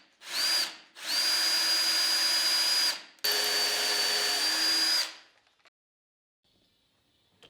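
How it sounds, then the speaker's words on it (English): A power drill bores dowel holes into clamped wooden pieces, with tape marking the depth, for a wooden toilet paper holder. Three close, loud, steady whining bursts run a second or two each, then quiet. "drilled the holes for the dowels."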